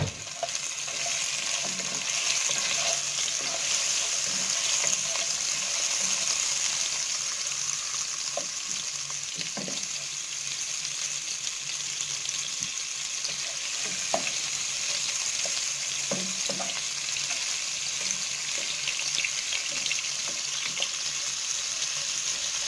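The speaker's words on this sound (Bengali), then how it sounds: "সেম তেলের মধ্যে দিচ্ছি, কিন্তু মাছ ফ্রাই করেছি যে ওই তেল।" Steady sizzling and frying of food in reused oil left from frying chapila fish, with occasional stirring clicks and scrapes throughout, close and continuous with no talk.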